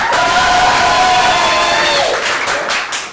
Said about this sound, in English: Round of applause for rhyme time.